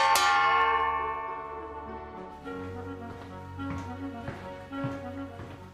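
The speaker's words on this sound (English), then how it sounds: "they saved muscle power and lung power by using an electric dinner gong" Victorian electric dinner gong rings out with a loud metallic strike whose bright tone slowly decays, followed by a series of softer repeated chimes that shimmer and overlap, heard alone without talk.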